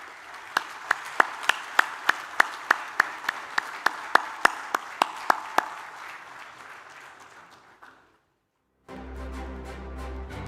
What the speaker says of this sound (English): give an applause to this company, which is excellent in India and in the world on project management